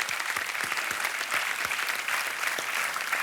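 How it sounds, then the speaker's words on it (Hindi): Continuous, dense applause from a quiz show studio audience on Kaun Banega Crorepati, with steady rapid clapping filling the whole moment, loud and close, with no talking over it. "तालियों के साथ हम आपका अभिनंदन"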